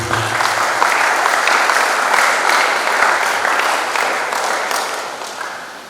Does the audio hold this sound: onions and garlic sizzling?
no